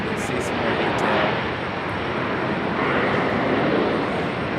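A weathered Lufthansa airliner with a damaged tail passes at Raleigh-Durham airport, giving a steady, fairly loud broadband engine roar that swells slightly and holds.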